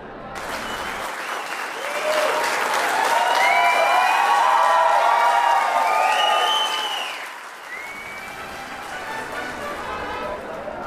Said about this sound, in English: You can hear the cheering out there.